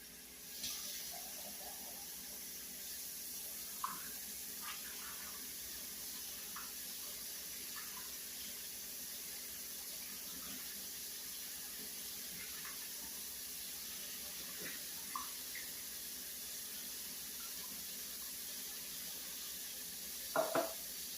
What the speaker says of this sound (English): I'm going to drain and rinse my black beans.